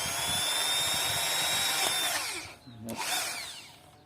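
Power drill boring holes while building a baited trap for treeshrews, a loud continuous whine for about two seconds, then tapering off and briefly spinning up again.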